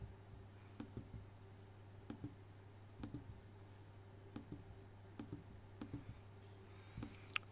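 Computer keyboard keys pressed one at a time, quiet isolated clicks spaced irregularly over a steady low electrical hum, no voices.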